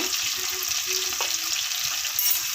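Steady sizzling of turmeric and chili powder frying in a pan for black chickpea curry, close and continuous, with faint scraping of a spoon stirring through it.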